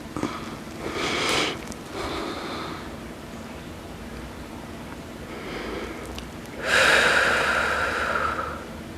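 Heavy breaths come in and out during an at-home stretching routine, two strong, close exhalations at the start and near the end with quieter breathing between.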